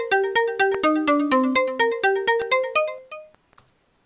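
A bright, chiptune-like Protracker melody of quick plucked notes plays in a steady rhythm, some notes quieter like echoes, then fades to near silence.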